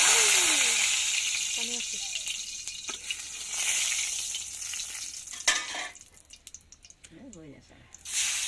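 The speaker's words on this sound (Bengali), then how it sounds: "এই যে শিং মাছ তেলের মধ্যে দিয়ে দেওয়া হয়েছে, এগুলো হালকা ভাজা হবে" Stinging catfish frying in hot oil, a loud close sizzle that fades and swells, with clinks and stirring noises and voices talking intermittently over it.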